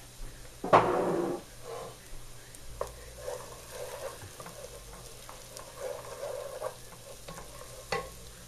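Beef sautéing in olive oil in a pot for chili, a steady close sizzle with scraping stirs and a sharp clatter near the start, then lighter knocks and rustles, no voices.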